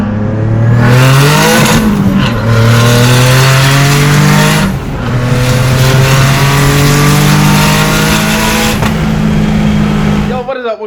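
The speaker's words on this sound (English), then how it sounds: "let's do a high boost pull. We're gonna turn traction control off." Car accelerating hard in a high boost pull with traction control off, a loud close engine roar climbing through the revs with brief gear-change dips, continuous for about ten seconds.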